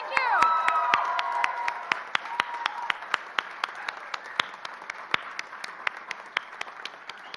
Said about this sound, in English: now I want a rousing cheer for your fans, family, supporters who are here today